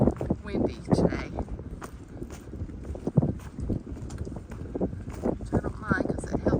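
Strong wind gusts across a wooded Appalachian Trail section between TN 91 and Low Gap, making a continuous blustery rush and microphone buffeting near the recorder, while a person speaks over it.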